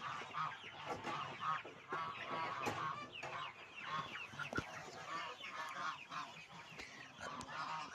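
A flock of chickens clucks and calls continuously nearby, with overlapping squawks and a few louder honking notes mixed in.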